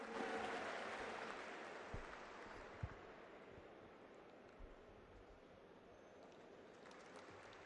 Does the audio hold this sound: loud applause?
yes